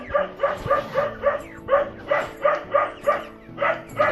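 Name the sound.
dogs barking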